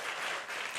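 Brief burst of audience clapping at an evening church camp service, dense and continuous for under a second with no voices over it.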